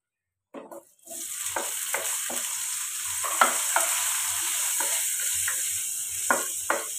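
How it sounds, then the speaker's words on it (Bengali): Potatoes frying with a dried Kashmiri chili in a pan over a low flame, giving a constant bright sizzle after a brief clatter at the start, with soft periodic stirring knocks, close up. "এগুলো দিয়ে এবারে আমি আলুগুলোকে ফ্রাই করবো এর সঙ্গে।"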